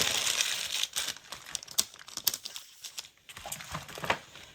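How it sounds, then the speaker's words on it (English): Thin plastic wrapping crinkles and crackles in irregular close bursts as it is pulled off a Yeti cup, with a brief quieter pause midway. "I think I'm just gonna take it out of the plastic and set it on top here"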